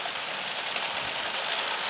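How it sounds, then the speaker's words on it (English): Heavy rain pours steadily during a thunderstorm in Vancouver, Washington, a dense, even hiss of drops on surfaces with no thunder and no voices. "you can see the rain's picking up like crazy right now"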